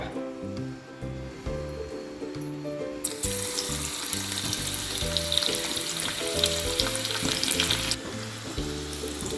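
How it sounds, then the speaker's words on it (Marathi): Peeled garlic frying in hot oil gives a steady sizzle that swells louder partway through and keeps going, with a constant low hum and bits of kitchen clatter underneath. "एका साईडला थोडंसं तेल नुसतं गरम करूया आणि ह्यामध्ये भरपूर साऱ्या लसणी सोलून तळून त्याच्यावर खमंग ओतूया"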